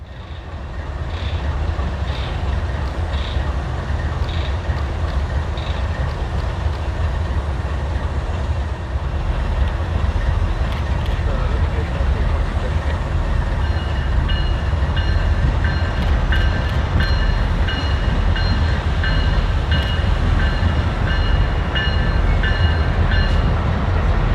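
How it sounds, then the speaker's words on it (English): A Norfolk Southern maintenance-of-way train rolls past on the Amtrak Michigan line between Jackson and Chelsea, a loud, steady rumble of wheels and cars that lasts throughout, with faint higher clatter and squeal over it. "we showed a Norfolk Southern maintenance of way train between Jackson and Chelsea back in 2013."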